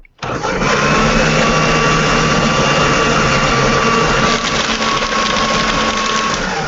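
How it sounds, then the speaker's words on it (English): A shop vac runs continuously after a brief click at the start, a loud, steady high-pitched whine and roar of suction that holds evenly throughout, close by with no talk. "The sound of a shop vac cleaning my pants."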